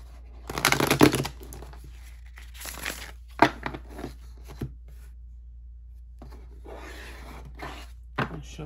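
Tarot cards being shuffled and handled, a few bursts of riffling and slapping with quiet pauses between, close up and without talk.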